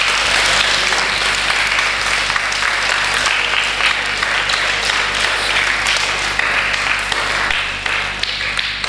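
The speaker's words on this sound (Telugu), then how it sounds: "ఒకసారి గట్టిగా చప్పట్లమ్మా." Audience applause at a Chinmaya Mission event with students, a loud sustained wash of many hands clapping that holds steady for the whole stretch, with no voices over it.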